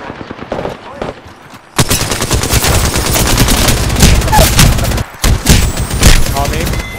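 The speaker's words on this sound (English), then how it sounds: "They're shooting at me." Dense, loud enemy gunfire in a video game: rapid automatic bursts that run almost without a break, pause for a moment, then resume, with a voice briefly audible beneath the shooting.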